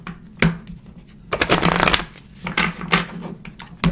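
Tarot cards shuffled by hand in repeated riffling bursts, close and moderately loud, with short pauses between rustling flurries and no talk.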